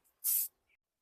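A single short burst from a hand sprayer misting water onto vegetable plant leaves, a crisp close hiss lasting about a quarter second, followed by a faint small click.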